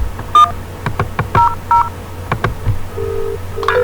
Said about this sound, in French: Puis j'appelle maintenant le 100.